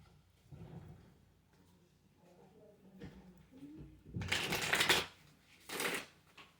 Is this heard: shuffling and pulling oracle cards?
yes